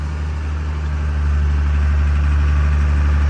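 Vehicle engine running steadily at a low idle-like rumble after a gear shift, loud and constant with no talk over it.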